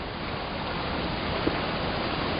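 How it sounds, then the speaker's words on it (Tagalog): Rough ocean waves at the coast, a steady broadband roar of surf and water noise, continuous and moderately loud, with no voices. "Tayo makakakita, malasang alon."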